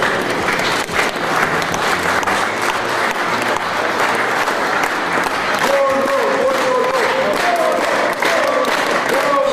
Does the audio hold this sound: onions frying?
no